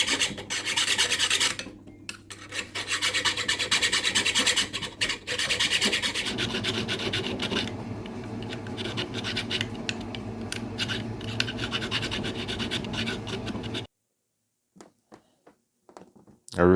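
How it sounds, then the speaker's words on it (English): A round steel file rasps steadily across a knife handle of dense micarta on a wooden puukko build, close and continuous strokes for about fourteen seconds before stopping into near silence with a few faint knocks. "Round file for steel works just fine."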